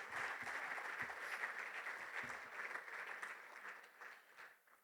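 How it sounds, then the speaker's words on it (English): Audience applause at a referees' annual awards dinner, a moderate round of clapping from the room that holds steady, then tapers off and thins toward the end. "Please give those 3 people a nice round of applause."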